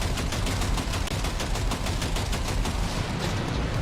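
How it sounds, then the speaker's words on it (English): Rapid automatic gunfire in the video game Cyberpunk 2077, a loud, dense stream of closely spaced shots continuing without pause. "I'm shooting an invisible wall."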